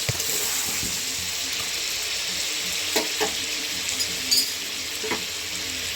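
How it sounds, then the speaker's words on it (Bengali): Chicken pieces frying gently in oil in a kadai, a steady broadband sizzle with a few small pops and spatters, close and fairly loud. "চিকেনটা আমি মোটামুটি কড়াতে দিয়ে হালকা হালকা করে একটুখানি ভেজলাম"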